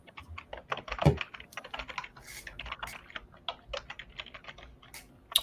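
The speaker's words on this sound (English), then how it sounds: "I was just typing a response in our Discord" Fingers type a message on a computer keyboard in quick, uneven bursts of soft clicks, with one louder clack near the start, picked up close and quiet.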